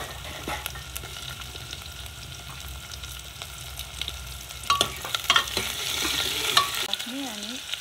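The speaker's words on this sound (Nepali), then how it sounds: "आलु र प्याज पनि लगभग भुटिसक्यो।" Potato and onion frying together in a pan give a soft, steady sizzle, broken by occasional scrapes and clinks of stirring that grow busier toward the end.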